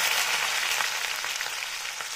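Onions hit hot oil already holding crackled cumin and coarse ginger-garlic paste, the tempering for an aloo gobhi matar curry, giving a loud, dense, continuous sizzle close by, with no voices.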